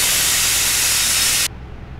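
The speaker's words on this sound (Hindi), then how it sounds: "हमने इसका प्रेशर निकाल दिया है" A pressure cooker holding cluster beans vents its steam in a loud, close, continuous hiss that cuts off abruptly after about a second and a half, leaving faint background noise.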